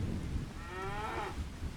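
A cow on a farm lets out a single drawn-out moo near the middle, its tone rising and falling over a steady low rumble of background noise, with no talking.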